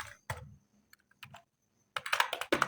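Keys clack on a computer keyboard while HTML form code is typed, in short bursts of sharp taps separated by pauses, with a quick flurry near the end, close and alone.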